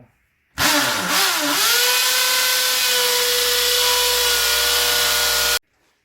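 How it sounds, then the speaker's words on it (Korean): A household power drill bores holes into a wall to mount a flat-screen TV, spinning up with a pitch that rises and then holds as one loud, steady whine for about five seconds before cutting off abruptly, with no talking. "가정용 드릴로는 작은 구멍을 내고 그 다음에 큰 구멍을 내는 순서대로 똑같이 진행하겠습니다"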